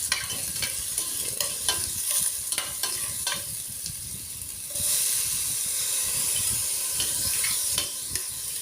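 Garlic and tomatoes sautéing in a pan for pork belly with shrimp paste, a steady close sizzle and hiss with repeated scraping stirs and clinks, the sizzle swelling louder halfway through.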